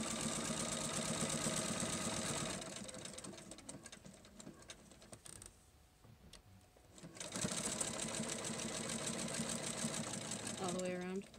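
A sewing machine topstitching about an eighth of an inch from a fabric edge whirs steadily and close by, slows and pauses briefly midway, then runs at full speed again.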